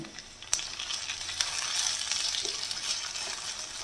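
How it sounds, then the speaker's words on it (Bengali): Chopped tomatoes fry in a pan with a steady sizzle that fills the pan closely, a dense hiss with occasional sharp pops and crackles, no voices. "এবার টমেটোটা একটু এর সাথে ভাজবো।"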